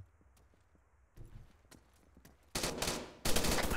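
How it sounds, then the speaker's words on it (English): Gunfire in Arma 3 during a killhouse team match: quiet footsteps and shuffling, then loud bursts of rapid shots in two close volleys at the end. "Who the fuck is shooting at me?"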